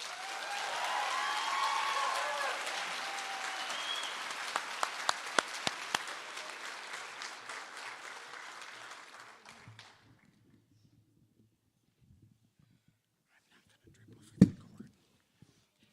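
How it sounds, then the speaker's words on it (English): A crowd applauds after a speech at an Institute of Technology graduation and pinning ceremony, with dense, steady clapping for about ten seconds. It then dies away into near silence, broken by a single loud thump near the end. "Let's give her one more round of applause for that speech"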